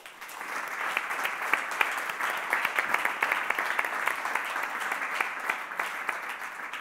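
An audience at a music event applauds continuously, many hands clapping in a dense, sustained wash with sharper individual claps poking through, fairly loud and steady throughout.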